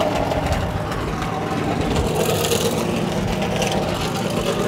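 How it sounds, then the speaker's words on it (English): NASCAR Xfinity race car engine, the #2 machine, running inside the Richmond Raceway garage, a steady loud rumble that fills the space without clear revs, with faint voices in the busy background. "the noise you're hearing is the Brian Scott's #2 machine"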